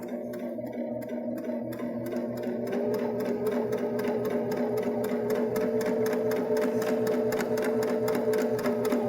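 A Baby Lock Jazz II sewing machine topstitches fabric, its needle chattering in a fast, even mechanical rhythm that runs continuously and close up, with no voices.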